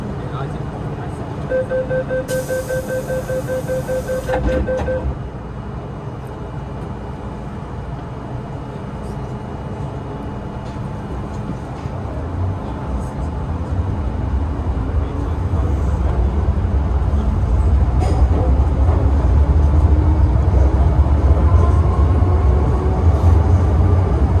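A first-generation Hong Kong MTR CM-Stock M train with SACEM signalling runs on the Island Line between Kennedy Town and Chai Wan. A steady rumble grows louder inside the car, opening with a brief two-tone chime.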